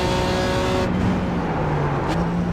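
LMP3 prototype race cars in the iRacing sim sweep past at Road Atlanta, a loud steady engine drone with a falling pitch as they go by, one car after another in quick succession, with no talk.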